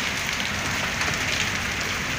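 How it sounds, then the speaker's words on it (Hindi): Hailstones fall during a storm in a dense, steady patter that stays even throughout, with no voices. "ये ओलावृष्टि हो रही है।"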